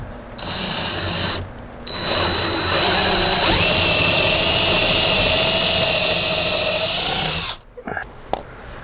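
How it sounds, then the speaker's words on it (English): A power drill fitted with a 1/4 inch bit bores pilot holes for 5/16 lag screws while hanging a rustic sliding barn door, whining loud and steady for several seconds after a brief start, then stopping abruptly. "I just grabbed a 1/4 inch drill bit"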